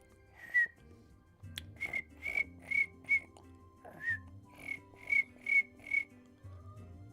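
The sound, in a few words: human whistling imitating a cricket chirp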